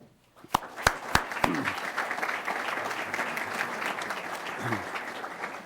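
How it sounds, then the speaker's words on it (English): An audience at a business leaders series event applauds the event's sponsors, starting with a few sharp separate claps before swelling into steady, dense applause that holds to the end. "Would our sponsors please stand and receive your applause?"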